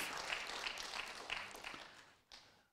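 Congregation clapping during a church service, a dense wash of hand claps that thins and fades toward the end, with a brief louder burst near the finish.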